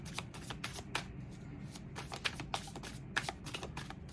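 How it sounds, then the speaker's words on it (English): Tarot cards being shuffled by hand, a steady papery riffling and sliding with a few sharper snaps, close and fairly quiet. "Cards were thoroughly shuffled as they are being right now."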